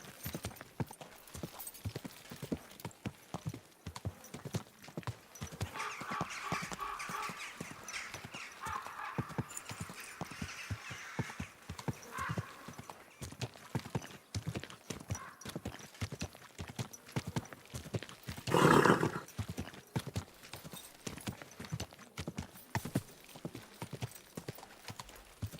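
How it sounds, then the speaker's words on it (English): Steady clip-clop of horse hooves walking at an even pace in a video game, close by, with a brief snort or whinny partway through. "Easy, good horse."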